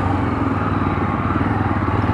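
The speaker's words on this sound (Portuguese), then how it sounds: "Aí, moto táxi aí na correria." Motorcycle taxi passing on a road in rural Brazil, a steady engine drone with low rumble running close and fairly loud through the whole moment, no talk over it.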